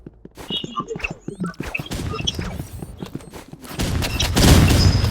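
Revolver fire in the video game Rivals crackles in rapid, irregular shots mixed with other gunfire, building into a denser, louder barrage toward the end.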